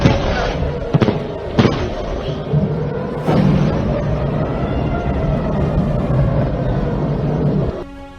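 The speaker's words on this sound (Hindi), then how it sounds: "तेहरान, तबरीज और इस्फहान और करज जैसे प्रमुख शहरों में धमाकों की आवाज सुनाई दी।" Booming blasts during air strikes on Iranian cities such as Tehran, Tabriz, Isfahan and Karaj, with sharp loud bangs near the start and around three seconds, then a sustained heavy rumble that cuts off abruptly.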